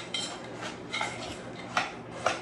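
A fork scraping and clinking in a bowl while stirring and breaking up buttery cracker crumbs, a few soft irregular taps and scrapes, close and quiet, with no talk.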